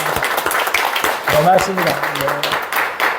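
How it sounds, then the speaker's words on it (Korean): A church congregation gives a brief round of applause during a Sunday worship service, scattered clapping beneath a voice speaking over it. "큰 박수로 한번 알려해 주시죠."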